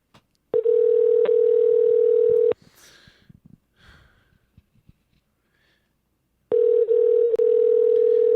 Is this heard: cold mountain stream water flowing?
no